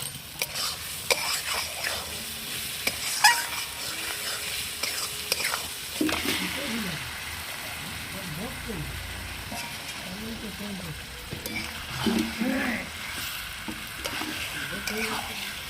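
Desi chicken sautéing in oily spice paste in a pan for a red curry, with scraping stir strokes and a steady sizzle, brief louder clatters near the start and faint background voices in places.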